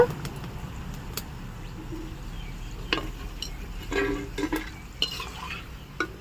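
Sticks of besan (gram flour) batter fry in hot oil with a steady soft sizzle, broken by a few sharp clicks and scrapes of a utensil turning and lifting them, with birds cooing faintly in the background.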